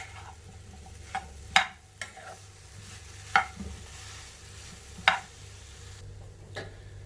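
A spoon stirs plantain thoran mixed with ground coconut paste in a pan over a soft background sizzle, with about five sharp clinks against the pan spaced irregularly.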